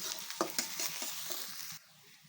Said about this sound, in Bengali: এটা ভালোভাবে নেড়ে চেড়ে কষিয়ে নেব পেঁয়াজটা লাল লাল করে